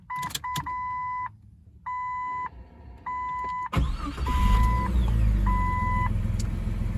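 A Jeep Cherokee XJ, started after years of sitting, gives repeated electronic chimes before the engine cranks and catches, then settles into a steady, rumbling idle with the warning chime still beeping over it.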